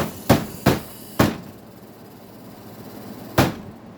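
Four sharp, loud knocks of a hand hitting an Arctic King air conditioner, three close together and a fourth after a pause, over the unit's steady fan hum.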